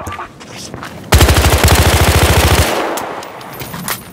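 A loud, rapid burst of automatic gunfire rattles for about a second and a half in a multiplayer shooter match near a diner, then tails off into quieter ambient game noise.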